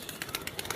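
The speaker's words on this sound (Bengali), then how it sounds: "দেখেন দেখেছেন গাইজ আমার কবুতরগুলা" Pet pigeons make a brief, close, soft burst of low cooing with a few quick repeated pulses and no talking.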